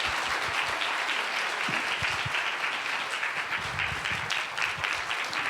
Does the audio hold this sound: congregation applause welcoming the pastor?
yes